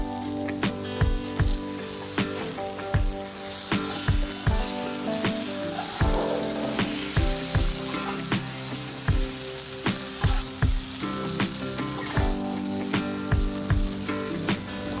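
An egg fry with onions and tomato sauce is cooked in a pan. A steady, loud sizzle runs throughout, punctuated by a regular clatter of a utensil scraping and stirring against the pan, with no talking.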